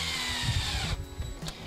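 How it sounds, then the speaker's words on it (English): A power drill pre-drills a screw hole through a 2x4 wooden board for a bench, giving a close, steady motor whine that stops abruptly partway, followed by a brief lighter mechanical sound. "We're gonna pre-drill it, and then we're gonna place our screws in there."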